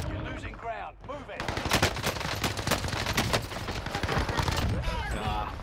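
Rapid sniper and rifle gunfire in the video game Warzone: dense, loud volleys of overlapping shots crackling almost continuously after a brief opening, with voices briefly heard at the start.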